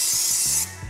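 Cleaning product sprayed onto a Kawasaki H2 Supercharged motorcycle, a single loud close hissing burst under a second long that cuts off sharply.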